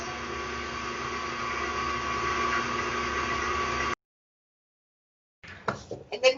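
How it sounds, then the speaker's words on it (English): KitchenAid stand mixer mixing cookie dough, a steady motor whir holding for about four seconds before cutting out, then brief handling noises after a pause. "Because usually when you're mixing stuff in the KitchenAid"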